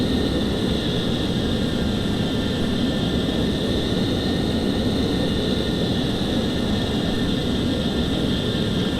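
An F-14 jet engine in the FSX flight simulator roars steadily and loudly with a broad, constant rumble and faint whining tones, no voices over it.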